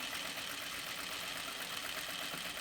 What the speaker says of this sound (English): I'm just gonna stitch down